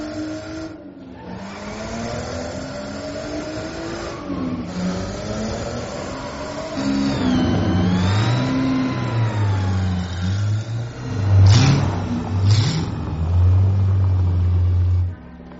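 A car engine revs and rumbles steadily as the vehicle pulls away, rising in pitch as it accelerates, loud and close with a couple of sharper bursts near the end and no talking.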